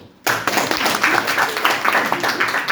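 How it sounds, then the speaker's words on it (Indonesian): Clapping from a group at a Muay Thai referee, judge and coach training session, a dense run of claps close by that continues steadily after starting abruptly. "Tepuk tangan dulu"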